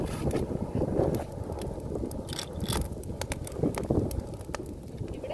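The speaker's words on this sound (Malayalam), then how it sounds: "നല്ല കാറ്റുണ്ട്" Steady wind buffets and rushes across the microphone outdoors beside an open cooking fire, with irregular gusts and rustling throughout.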